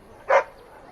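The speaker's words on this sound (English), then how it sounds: "Who's the cute and adorable puppy?" A single short dog bark rings out in the fantasy role-playing game Dragon Age: Origins, a brief clear yelp against an otherwise quiet background.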